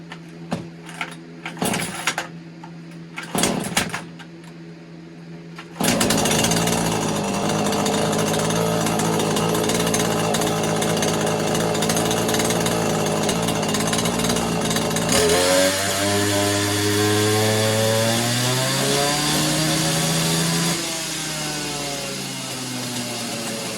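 A Neotec 843 43cc chainsaw, a Husqvarna 543XP clone with its strato gasket removed, starts after a few short pulls and sputters, then roars at steady high revs before settling to a lower pitch, loud and close with no talk.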